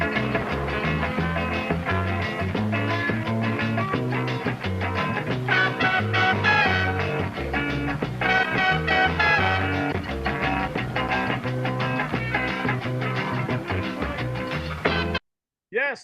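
A reggae track plays through a DJ's sound system, with a heavy, steady bassline and rhythmic instrumentation running continuously, then cutting out abruptly near the end.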